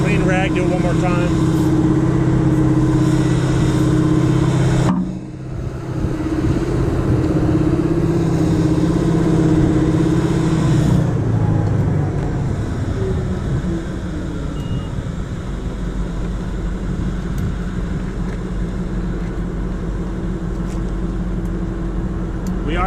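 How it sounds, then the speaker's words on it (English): Mechanical background noise in a mine's truck shop during a Cat door kit install, a loud continuous engine-like hum and drone that shifts in pitch partway through, steady under the work. "We are at the truck shop of a mine, so there is noise in the background."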